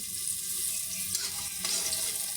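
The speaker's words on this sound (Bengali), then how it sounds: "একটু পেঁয়াজটা ভেজে দিলে ভালো হয় আমি এখানে সেটাই করতেছি" Onions frying in a pan for a fish curry, a steady broadband sizzle throughout with brief louder bursts as they are stirred, no voices.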